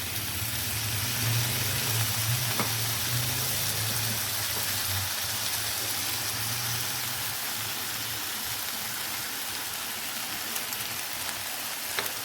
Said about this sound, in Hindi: अब इसकी करेंगे 2 मिनट मज़ीद भुनाई